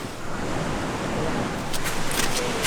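Ocean surf at sunset off Nusa Lembongan, Bali, washes in as a continuous broadband rush, fairly loud and near, with brief brighter splashes toward the end and no clear talking.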